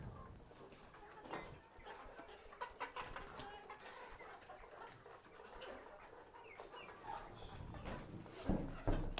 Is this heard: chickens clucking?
yes